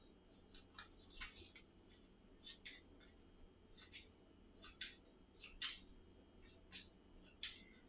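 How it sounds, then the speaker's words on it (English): Quiet crisp riffling bursts of Mysthea board game cards being shuffled, repeating roughly every half second to second, close to the microphone over a faint steady background hum. "Shuffle those up."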